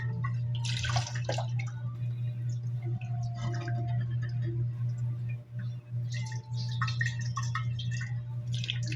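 Weak tap water trickles and drips while a heap of dishes is washed, a thin running flow under a steady low hum, with clinks and splashes coming and going.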